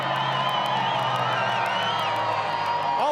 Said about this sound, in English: These people right now cheering, absolutely ecstatic to see the Colorado Avalanche